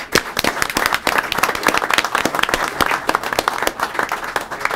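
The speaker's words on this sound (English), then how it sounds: "let's have a round of applause for Fox College" A crowd applauds Fox College at a public meeting, a dense, steady burst of many hands clapping loudly and continuously with no talk over it.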